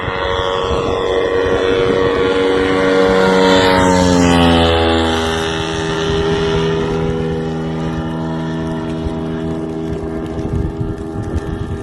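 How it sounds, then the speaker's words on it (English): A Shahed drone passes overhead, its buzzing propeller engine droning loud and steady, the pitch sliding downward as it swells near and then recedes, heard from the ground. "This is what the Shaheeds sound like when they fly over your head"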